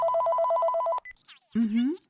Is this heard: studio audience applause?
no